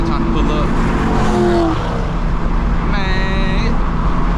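BMW F82 M4 engine droning steadily during a POV street drive, a loud continuous rumble with a brief rising whine near the end, with a driver talking over it.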